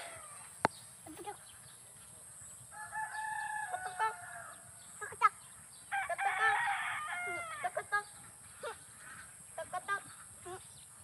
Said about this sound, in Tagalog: si Mimi nagpapastol sa kanyang mga alagang itik